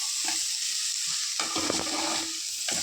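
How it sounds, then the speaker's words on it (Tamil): Potato podimas being gently stirred with salt and fennel in a pan, a soft scraping stir with a light sizzle running underneath, close by and steady. "இப்போது இதை நம்ம ரொம்ப அழுத்தி கிளறக்கூடாதுங்க"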